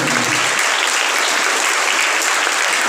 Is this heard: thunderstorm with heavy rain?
no